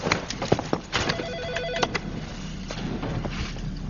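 A telephone bell rings in a dramatic film scene, several bright repeated trills standing out clearly over a low background hum, with no talk over it.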